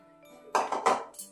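A bowl and dishes clink as pickle is set aside, with a few quick ceramic knocks and clatters in succession against a quiet room, close by.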